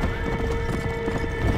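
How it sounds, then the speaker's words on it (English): Horse hooves galloping in the Red Dead Redemption video game, a fast, steady clip-clop rhythm that is loud and continuous and heard alone, with no talk. "I'm just running over zombies nonstop with a freaking flaming horse."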